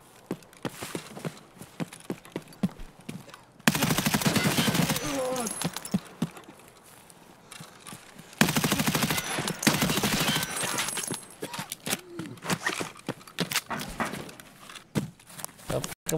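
Bursts of video game gunfire from a Vector .45 submachine gun loaded with RIP ammo, two loud sustained volleys breaking through steady talk, with quieter shots and footstep-like sounds between them.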